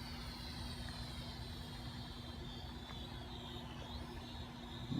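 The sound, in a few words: JJRC H31 quadcopter drone flying around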